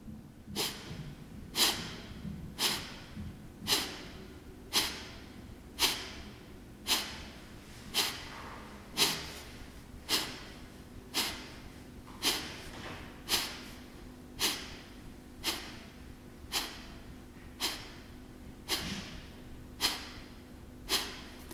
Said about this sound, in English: we exhale sharply and with a little force